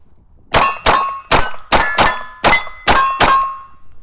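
Seven sharp metallic rings of rounds striking steel targets at a shooting range, fired in quick succession with roughly even spacing, each ring decaying briefly, with no talk.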